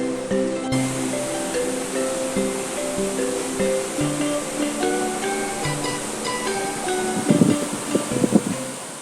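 Continuous rushing water from a river flowing through Sanghyang Kenit cave, a broad steady wash with some tonal rumble, turning briefly louder and splashier near the end.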